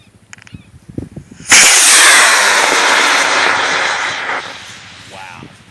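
A model rocket launches with a sudden loud roaring whoosh that holds for about three seconds and then fades, right after people count down aloud; voices continue faintly at the end.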